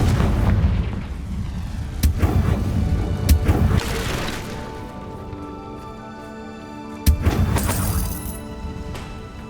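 In Hogwarts Legacy, a Confringo blasting spell bursts against rocks: a sharp boom and crash, a second hit, then a third heavy blast with scattering debris, each loud and close, with low rumbling between.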